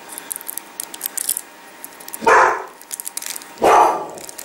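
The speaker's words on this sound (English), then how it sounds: "And we have a noisy dog." A dog barks twice, loud and close, with a pause between the sharp barks, over light clicking and handling noises.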